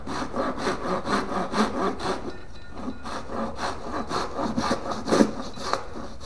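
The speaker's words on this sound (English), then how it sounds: "I'm going to go ahead and make my life a little bit easier and saw some of that off" A cheap Harbor Freight hand pull saw cuts excess bubinga wood from a pen blank with steady rhythmic rasping strokes, about two per second, close and loud with a brief pause midway; no talking.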